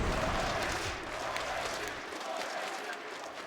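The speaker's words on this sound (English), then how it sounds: "the crowd chants his name." Arena crowd at an IEM Katowice 2022 Counter-Strike quarterfinal, Virtus.pro vs G2 on Mirage, a dense wash of cheering and applause that swells briefly then eases off.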